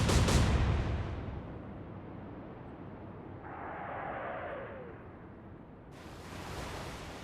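Naval gun firing shells in Atlantic Fleet, opening with a heavy boom that rolls into a long rumbling decay over wind and sea noise, with a whistling streak midway and a later noisy swell.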